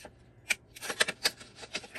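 Scissors snip through paper while cutting out a round Christmas craft embellishment, a series of quick crisp close-up clicks and cuts in an uneven rhythm.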